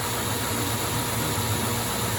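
A CNC Proto-Trak lathe rough-turns a 4140HT steel shaft, giving a steady, even machining hum with a constant grinding hiss, alone and unbroken.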